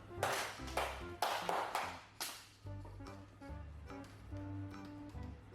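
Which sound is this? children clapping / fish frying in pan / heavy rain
children clapping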